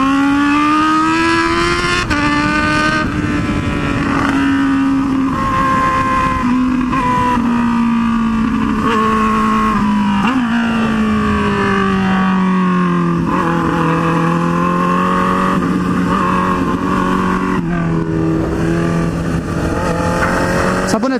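A Honda Hornet motorcycle with a quick shifter accelerates hard. Its loud, close engine note climbs in pitch and drops back in quick steps at each gear change, running continuously throughout.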